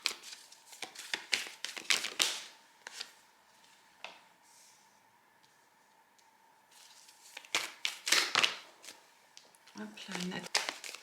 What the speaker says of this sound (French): je vais tirer les 3 cartes de l'oracle